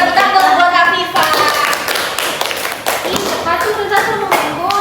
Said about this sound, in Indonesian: Kita tepuk tangan buat Afifah.